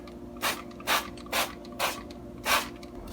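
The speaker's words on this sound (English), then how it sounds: "use the oil of your choice that you want to use, and spray these chicken breasts" Five short, evenly spaced hisses from a hand-pumped oil sprayer misting panko-breaded chicken breasts, close and fairly quiet against a low background hum.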